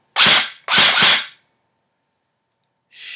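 VFC M4 airsoft rifle fired on semi-auto: two loud, sharp, close shots in quick succession, then silence before a third shot begins at the very end.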